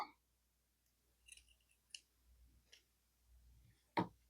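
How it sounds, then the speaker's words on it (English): Quiet, separate snips of scissors cutting through a crisp onion, several spaced strokes ending in one louder cut, in a still room. "I'm going to take my scissors and just cut up the middle."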